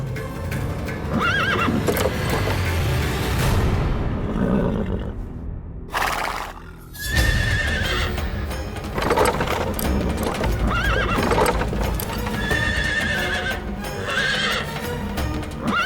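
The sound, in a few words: horse neighing and hooves clip-clopping, refusing to move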